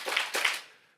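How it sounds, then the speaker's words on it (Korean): A church congregation claps in unison during a sermon, two sharp clustered bursts of clapping close together, fairly loud and then fading out. "박수 3번 시작."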